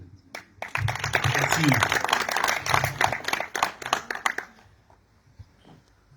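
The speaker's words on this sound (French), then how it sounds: "nous allons applaudir chaleureusement" Audience applause at the closing ceremony of a Moroccan-Belgian intercultural exchange: dense, fairly loud clapping for about four seconds, mixed with a voice, then fading to a quieter room where a brief word is spoken.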